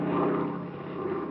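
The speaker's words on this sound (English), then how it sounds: "by 5:30 I was riding with Fred Kane in Mr. Harvey's private plane, headed for sunny California" Private propeller plane in flight as a radio drama sound effect, a steady droning engine hum with layered tones, moderately faint and continuous with no voices.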